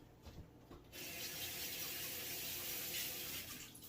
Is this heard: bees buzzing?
no